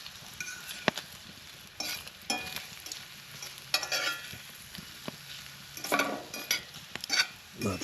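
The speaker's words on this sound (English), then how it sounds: "It's sizzling." Spicy Spam sizzles and crackles in a hot pan while a utensil scrapes and stirs it in irregular bursts, close and clear with no talking.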